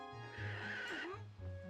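A pig squeals in The Wind Waker, a shrill, wavering cry sounding over a steady low drone of game music.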